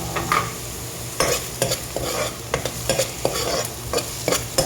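Onions sautéing in a pan, a steady sizzle broken by repeated scraping and clacking strokes of a utensil stirring them, close and fairly loud.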